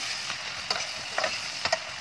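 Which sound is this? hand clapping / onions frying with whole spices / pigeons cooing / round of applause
onions frying with whole spices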